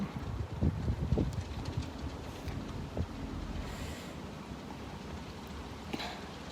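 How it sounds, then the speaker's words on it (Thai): Strong wind buffets the microphone outdoors during light snowfall, a broad rushing roar with gusty thumps loudest at first, then easing to a steady blow. "แต่นี่ลมมันแรงนะคะ"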